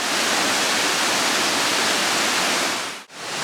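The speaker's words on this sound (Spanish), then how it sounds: "descubro que hay una cascada y un puente" A waterfall near the source of the Palancia river in Begís pours with a loud, continuous close rush of water, broken by a brief dip just before the end.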